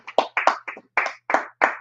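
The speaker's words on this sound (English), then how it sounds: "That's a clap up moment right there." A small group claps in a scattered, uneven rhythm, about eight distinct close bursts separated by short gaps, set within a scripture breakdown and law class session.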